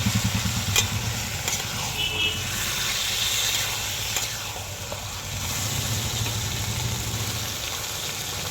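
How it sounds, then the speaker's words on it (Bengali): Taro leaves (kochu shaak) frying and being stirred with rohu fish head, a steady sizzle with occasional spatula scrapes and a low rumbling background hum. "শাকটা দিয়ে ভালো করে কষিয়ে নেব।"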